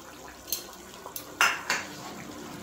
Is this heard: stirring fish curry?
yes